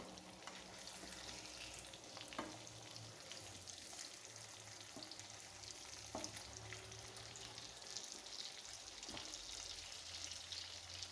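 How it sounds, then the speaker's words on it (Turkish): Tomatoes sizzle steadily in a frying pan after being turned over, a continuous crackling fry with small pops and stirring scrapes throughout, fairly close and with no voices. "Şimdi domatesleri ters çevirelim. Pişmemiş yüzleri de pişsin."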